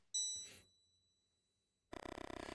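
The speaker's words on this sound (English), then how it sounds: "Suddenly, the bell rings" A bell in the video game Mothmen 1966: a bright metallic ding rings out and fades, followed after a pause by a rapid, rhythmic chiming that starts abruptly.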